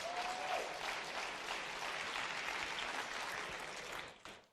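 A conference audience applauds speakers steadily for several seconds, a dense even patter of many hands that fades out abruptly at the end.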